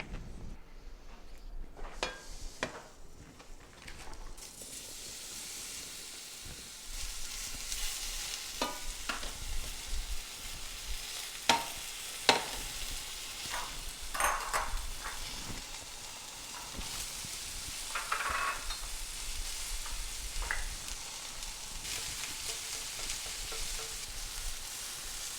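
Food sautés in avocado oil in a pan on medium-high heat, a steady low sizzle with scattered scraping and clinking stirs throughout, fairly quiet and with no one talking.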